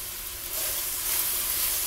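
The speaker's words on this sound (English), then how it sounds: "I have my beef in my pan now, and so I'm going to brown it on medium heat." Floured beef browns in olive oil in a skillet over medium heat, a steady close sizzle that swells louder about halfway through and then holds.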